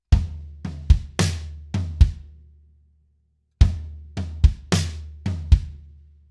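Drum kit playing the first half of a rock rhythm, about a dozen crisp hits with cymbal wash and low drum thumps, a brief pause midway, close and alone.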